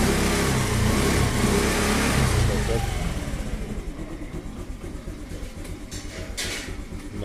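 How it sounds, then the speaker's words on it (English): Honda Activa scooter engine starts and runs at a steady mid-pitched idle, loud and close at first, then settling slightly quieter, with no talk over it. "So I'm going to start the engine."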